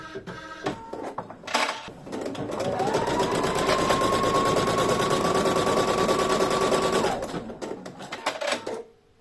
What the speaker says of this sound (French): je cercle sur le bras de broderie et j'ai plus qu'à lancer la brodeuse